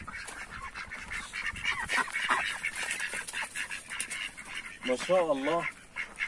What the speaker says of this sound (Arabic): ده الباقي يا جماعه، ده باقي البط اهو،